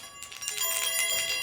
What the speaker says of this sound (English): I like the way they feel when the chimes ring when I hold them.